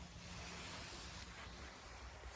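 River flowing in winter beside a snowy bank in Bukovina, Ukraine, a steady broadband rush of water with wind-like noise at moderate level, no voices.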